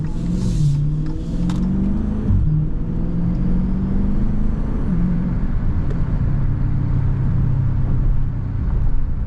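A 392 Shaker car idles and creeps through night traffic in custom exhaust mode, its deep, loud engine rumble burbling steadily, with small pitch rises as the throttle is blipped.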